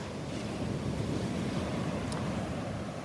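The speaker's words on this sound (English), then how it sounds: "Let's just walk along and enjoy the sounds of the waves for a little while." Ocean waves breaking on a beach in North Naples, Florida during a morning walk, a steady loud wash of surf mixed with wind buffeting the microphone.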